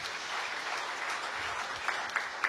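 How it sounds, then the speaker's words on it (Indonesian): A church congregation breaks into loud, sustained applause, a dense wash of clapping with a few sharper claps standing out near the end. "Yang mau tepuk tangan yang meriah bagi Tuhan ini."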